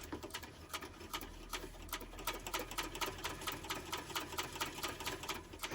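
A sewing machine runs steadily, top stitching a fabric pouch exterior at a long stitch length, with a fast, even rhythmic clatter close up and no talking.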